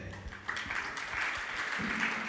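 An audience at a Jain religious discourse by Muni Pramansagar at Gunayatan, Shikharji claps in a faint, scattered patter that grows slightly fuller as it continues, with no voices over it.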